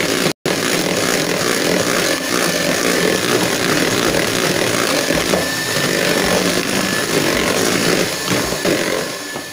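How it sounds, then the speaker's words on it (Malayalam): An electric mixer running at low speed beats cake batter as oil goes in, a loud continuous motor whir with gritty churning that holds steady after a brief cut near the start. "ഓയിൽ ഒഴിച്ചിട്ട് നമുക്ക് ഒരു 1 സ്പീഡിലിട്ടിട്ട് ചെറിയ സ്പീഡിലിട്ടിട്ട് പതുക്കെ ഒന്ന് കറക്കിയാൽ മതി."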